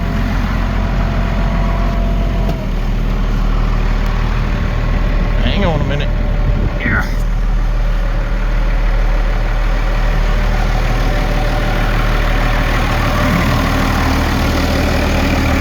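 A heavy tractor engine rumbles steadily at idle, close and loud, while someone speaks briefly over it and a short squeal cuts through midway, on a muddy cattle farm.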